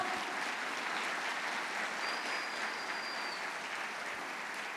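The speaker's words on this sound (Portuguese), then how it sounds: "Pode aplaudir o Senhor." Congregation applauding in a church during an evangelical sermon, a steady dense wash of clapping that holds at an even level for several seconds with no voices over it.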